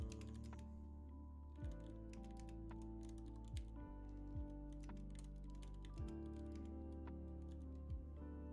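Typing on a computer keyboard, a steady run of light, close key taps over a constant low electronic hum, with a few louder thumps scattered between.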